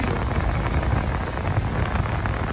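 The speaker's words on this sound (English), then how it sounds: "It's raining." Steady rain falls outdoors on a road, a dense, even patter with wind rumbling against the microphone throughout, close and continuous with no voices.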